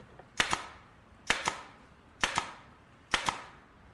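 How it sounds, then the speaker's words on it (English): Nail gun driving nails into hard wood, four sharp double-cracked shots spaced about a second apart, loud and close with short decays and nothing else around them. "I think I'm gonna need the nail gun."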